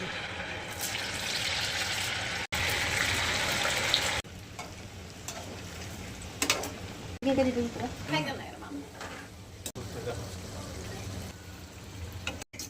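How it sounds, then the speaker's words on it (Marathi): Crispy nuggets frying in hot oil, a steady bright sizzle that drops back after a few seconds, broken by stirring clatter and someone talking over the bubbling. "तेल गरम झाले का बघूयात आपण आता तळून घेऊयात"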